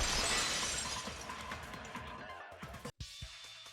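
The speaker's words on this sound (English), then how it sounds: "the girls heard the sound of the window shattering" Glass shattering sound effect from the video game Danganronpa 2, a sharp crash followed by a scatter of tinkling shards that fades out over a few seconds, ending in a brief cut to near silence.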